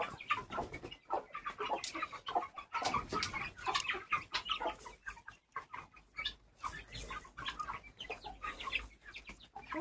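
Chickens cluck and squawk in irregular bursts nearby, with busy farmyard rustling and scratching throughout.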